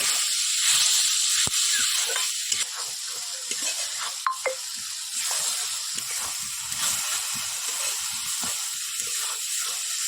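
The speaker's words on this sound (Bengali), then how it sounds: "অল্প জল দিয়ে দিলাম যাতে মশলাটা পুড়ে না যায়" A little water hits spiced masala frying in a pan for a crab curry, with cumin powder already added, setting off a steady, loud hiss of steam and sizzle that runs unbroken throughout, with faint stirring clicks and no talking.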